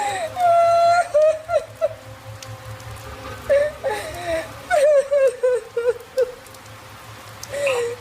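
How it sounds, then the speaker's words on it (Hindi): In a horror story set on a stormy rainy night, a high, wavering whimpering cry rises and falls in repeated wails over steady rain, fading in and out at moderate loudness with no one speaking. "अब रोने की आवाज आने लगी थी।"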